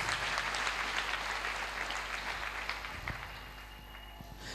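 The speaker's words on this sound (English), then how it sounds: "Clap for Lord Jesus Christ." A church congregation claps together in a sustained burst of dense, even applause that holds steady and fades only slightly near the end, filling the room with no voices rising above it.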